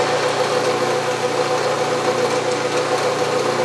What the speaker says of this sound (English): So next I will center drill